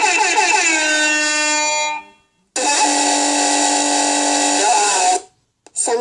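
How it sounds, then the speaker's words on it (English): Two long, loud air horn blasts sound indoors in a bedroom, the first lasting about two seconds and the second nearly three, separated by a brief silence, with a short burst at the very end. "I will pull the air horn in 3,"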